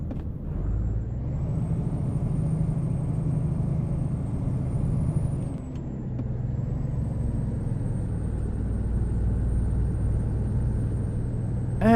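Truck engine in American Truck Simulator, a steady low rumbling drone at constant speed on the highway, loud and close, with a faint high whine riding above and a slight dip in the middle before settling back.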